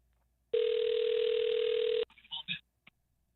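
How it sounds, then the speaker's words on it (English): A single steady telephone ring tone sounds on a morning radio call-in show, loud and unbroken for about a second and a half, then cuts off into a few short faint clicks and rustles. "It's ringing. Pick up your phone."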